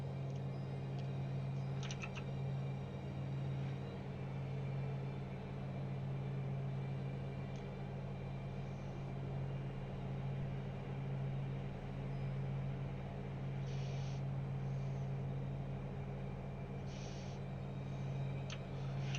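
A light aircraft engine drones in cruise flight at reduced RPM: a steady, loud, unbroken hum with a strong low tone, a few faint clicks and short hisses on top.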